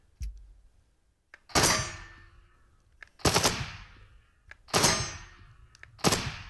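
Four loud gunshots from the VR game Into the Radius, fired one at a time about a second and a half apart, each a sharp crack with a ringing tail and short mechanical clicks in between.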